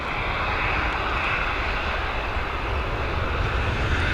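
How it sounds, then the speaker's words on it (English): A loud, steady engine roar fills the air as an Airbus A320 arrives at Dublin Airport from London Heathrow, a dense unbroken rumble close by with no voices. "She's an A320, she's coming in from London Heathrow."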